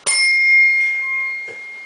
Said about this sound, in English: I don't think it rings your ears like it does right here, but it's this cool brass bell